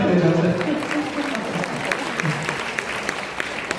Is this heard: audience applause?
yes